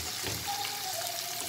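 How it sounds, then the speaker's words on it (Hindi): Onions softening in oil with bay leaf, black cardamom, cinnamon, star anise and cloves, giving a steady close sizzle and hiss throughout with a faint stir. "ऑयल में बस हल्का सा सॉफ्ट हो जाए प्याज।"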